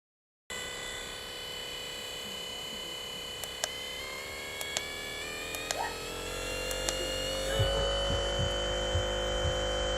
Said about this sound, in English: On the high setting, it'll put out less than 60 decibels of noise.